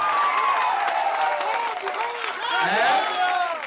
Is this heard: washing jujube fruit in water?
no